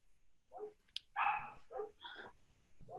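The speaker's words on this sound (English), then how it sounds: "Is that Avery barking?" A dog indoors gives a run of about five short, fairly loud barks in quick succession, with brief gaps between them and no talking.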